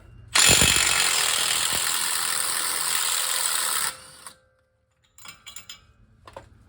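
Ratchet turning a 36 mm socket on a control arm nut of a Dodge Ram: a fast, loud, continuous clicking run for about three and a half seconds, then a short pause, then a few quicker bursts of clicks.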